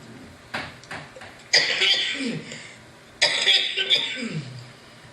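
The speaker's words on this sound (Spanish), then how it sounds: "No me puedo rascar, entonces tengo que toser" A person coughs in two harsh bursts, each trailing into a rough throat-clearing rasp, close and fairly loud with brief pauses between.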